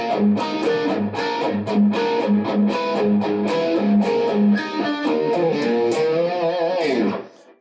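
A driven electric guitar boosted by an MXR Micro Amp pedal into amp distortion plays a rhythmic riff with thick, punchy tone, repeated chugging notes, ending on a ringing chord that fades out.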